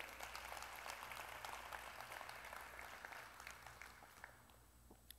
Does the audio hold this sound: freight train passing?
no